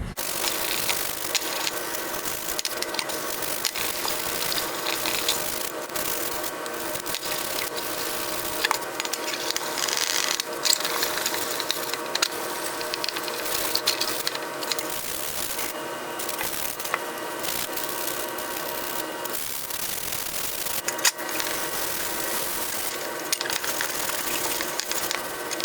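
Sandpaper is rubbed by hand over plastic body filler on a steel panel repair, a continuous close rasping scrape with uneven strokes throughout.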